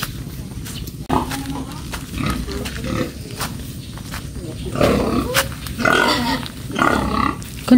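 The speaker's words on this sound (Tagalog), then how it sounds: "Kalaki ng baboy." A large pig grunts and snorts in several rough, uneven bursts, close to the listener, with low rural background noise between the calls.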